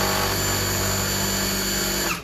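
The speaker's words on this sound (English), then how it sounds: "drilling into it, it went perfectly" A power drill runs close and loud at a steady high whine while boring into a flat workpiece on a bench, stopping abruptly near the end.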